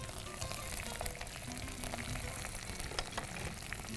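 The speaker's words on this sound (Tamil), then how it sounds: "மிளகு, கடுகு வந்து பொரிஞ்சு மேலே வருது" Pepper and mustard seeds splutter and crackle in hot oil, a dense steady frying hiss with scattered sharp pops throughout, fairly close, with no one talking.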